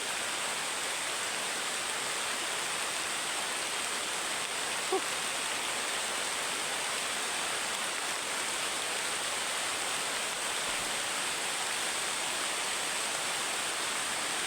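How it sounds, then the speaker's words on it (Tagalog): Heavy rain pours down steadily in a downpour, a dense, even roar that stays loud and unbroken from start to finish with no voices. "Grabe lakas ng ulan."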